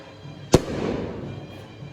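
A single sharp firecracker blast cracks loudly nearby, followed by a drawn-out rumbling tail and faint background noise, set off by neighbours near a frightened sacrificial calf.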